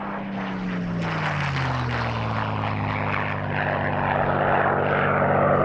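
Spitfire MH434 flies an airshow display at Duxford, its propeller engine droning loudly and steadily, the pitch sliding lower as it passes and the sound building again toward the end.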